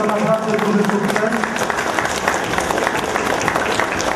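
Applause rises from a crowd at a chess tournament award ceremony, steady, dense clapping that runs for several seconds with a voice speaking over it.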